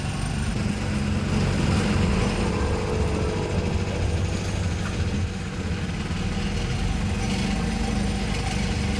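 A boat engine drones steadily while cruising the backwaters of Kuttanad in Alappuzha, Kerala, a close, continuous low hum with a slight throb and no voices over it.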